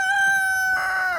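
A hen raised from hatching gives a long, sustained crow, loud and close, lasting about a second with a slight rise in intensity toward the end.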